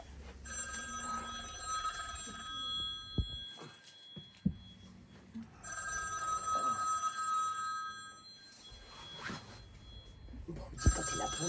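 A telephone rings with a repeating electronic bell tone in a domestic setting, sounding in bursts that start and stop across the clip, with brief knocks and background movement between rings.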